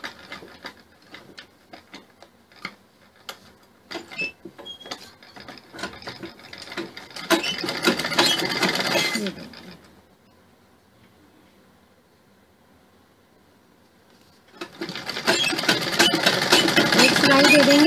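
A sewing machine stitches a sherwani suit in quick rattling runs, starting with sparse ticks, then two loud sustained bursts separated by a quiet pause.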